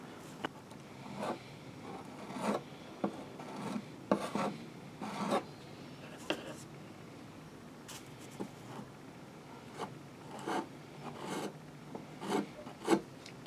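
Bondo filler on a studio-scale police car model is sanded flush, giving a series of rhythmic, raspy rubbing strokes in irregular bursts, heard close and moderately quiet with no talk.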